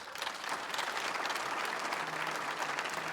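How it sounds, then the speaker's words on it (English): Steady audience applause fills a hall during a mayor's township address, a dense even clapping heard close and alone for its whole length. "That deserves applause itself."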